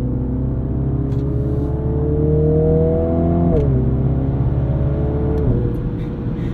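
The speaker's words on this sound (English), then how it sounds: "you can hear that exhaust do its little pops, burbles, and farts between shifts" A 2021 Mini Countryman John Cooper Works engine drones steadily, then drops pitch twice at gear shifts, each marked by small exhaust pops and burbles.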